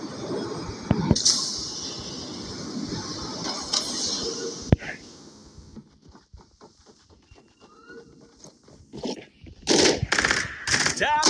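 Rapid automatic gunfire and artillery blasts from the video game Farlight 84 come in sharp bursts and single bangs, fading to scattered shots before a final cluster of loud volleys.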